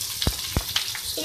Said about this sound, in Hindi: हल्का फ्राई करने के बाद इसमें 1 मीडियम साइज़ की चॉप प्याज ऐड कर रही हूँ